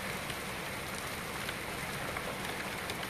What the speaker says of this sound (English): Right, Stacey, some rain is coming your way